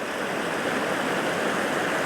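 Steady broadband rush of water from waterfalls on the Lurg Burn in the Scottish landscape, a continuous close roar with no pauses and no voices.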